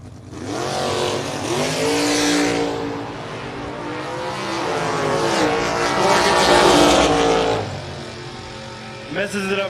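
Drag racing cars roar down the strip at a bracket race, one a foot-braked machine, engines screaming loudly and continuously as they accelerate, with an announcer talking over the noise.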